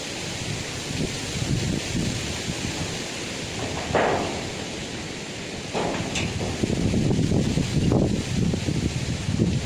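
Strong wind outdoors buffeting the microphone with continuous roaring rustle and gusty surges, close and loud throughout, with no talking.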